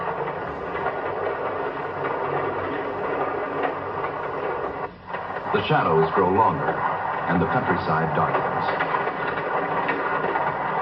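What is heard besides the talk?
passenger train speeding along the rails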